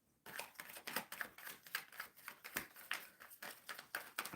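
Tarot cards shuffled by hand during a live reading, a steady run of soft, rapid riffling and slapping bursts close to the mic, with no talk over them.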